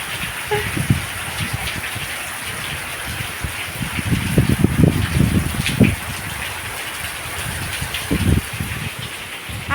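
Torrential rain gushes and splashes nearby, a loud steady roar with heavier surges of water pounding a surface.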